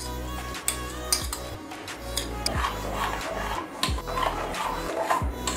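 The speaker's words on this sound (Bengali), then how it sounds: "ভালো করে গুড়ের সাথে আমের পাল্পটা এভাবে মিশিয়ে নিতে হবে" A spoon scrapes and stirs strained mango pulp with jaggery in a wok for a summer mango drink, making irregular rubbing, scraping and knocking sounds against the metal, close and moderately quiet, with a low hum underneath.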